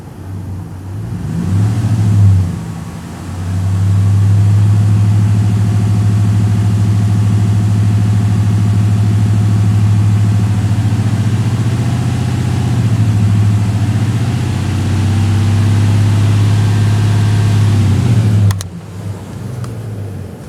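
A Dodge Ram 5.7L V8, freshly fitted with a new water pump, starts with a short rev, then holds a loud, steady elevated idle for about fifteen seconds before dropping off abruptly.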